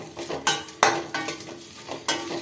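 Spoon stirring okra frying in a pan, with repeated scraping strokes and a sizzling bed of frying underneath, close and moderately loud, no talk.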